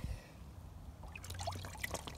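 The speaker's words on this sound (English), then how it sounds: "Water went on the floor." Water trickles and splashes onto a floor indoors, a faint dribble that grows into brief wetter spatters and drips toward the end, with no talk heard.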